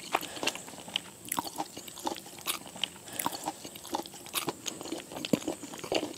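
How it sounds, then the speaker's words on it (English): Someone chewing loudly close by, a run of moist crunching and smacking bites in an irregular rhythm, fairly prominent against a quiet outdoor background with no talking. "So that's it. You're just going to chew that loud"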